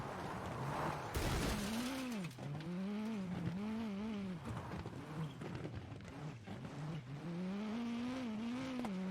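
A rally car in WRC 9 revs hard through repeated rising and falling engine sweeps, with a burst of tire noise near the start, loud and continuous, no talk.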